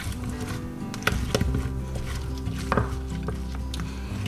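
Potatoes being mixed with oregano and olive oil: a steady run of clinks, scrapes and a few sharper knocks over a low kitchen hum, with no talking.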